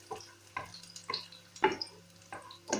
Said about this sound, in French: Vous faites revenir votre oignon. Voilà, vous le faites bien revenir.